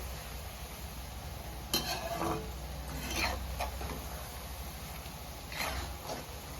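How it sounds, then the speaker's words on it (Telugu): Sliced bitter gourd fries quietly in oil with a soft, continuous sizzle, and a few sharp scrapes and clinks of a utensil stirring the pan come through near the start and the end. "ఇంకొక 10 నిమిషాలు ఫ్రై కావాలి."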